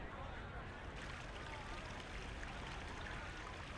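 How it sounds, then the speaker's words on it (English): A creek flows across the course at Augusta National in EA Sports PGA Tour 2023, a soft continuous rush and trickle of water, steady and fairly quiet, heard on its own. "Oh, look, you can hear the creek."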